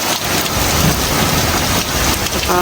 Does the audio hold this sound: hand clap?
no